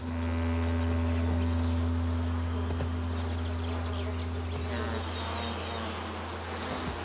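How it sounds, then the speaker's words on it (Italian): A dense swarm of bees in the Slovenian Alps buzzes loudly and continuously while defending their hives against a bear, with a steady droning hum throughout. "Le api non si lasciano derubare facilmente e passano all'attacco."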